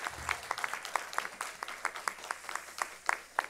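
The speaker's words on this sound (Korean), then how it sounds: "하나님께 감사와 영광의 박수 올립니다" Church congregation applauding during a Sunday morning service, a moderate round of scattered, distinct claps with uneven rhythm, fairly close and unaccompanied by talk.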